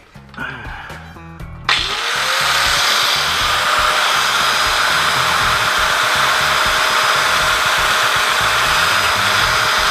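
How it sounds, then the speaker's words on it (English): A power drill whirs loudly and steadily for several seconds after a few brief starts, its motor hum close and continuous, while working on a motorcycle. "And now got the drill."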